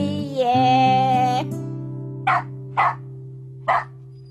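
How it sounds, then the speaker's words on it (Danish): A dog barks three times, sharp and close, after a sustained tonal sound fades out; the barks come in a loose, uneven rhythm. "Har du fået hund?"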